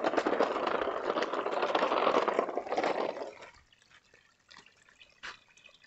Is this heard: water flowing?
yes